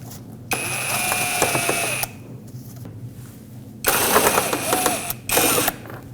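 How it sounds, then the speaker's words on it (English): A power tool whirs in two loud bursts while backing out Phillips head screws from the bumper panel in front of the wheel of a Nissan Frontier, with a quieter mechanical clicking between them. "It has 2 Phillips head screws. Remove them both."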